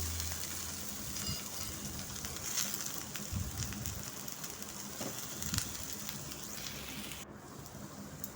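Ridge gourd peel frying in oil in a pan, a continuous close crackling sizzle that holds steady for several seconds with scattered sharper pops, heard alone.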